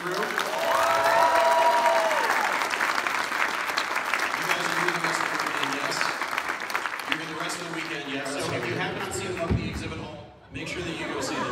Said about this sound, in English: Can we get a round of applause for the crew?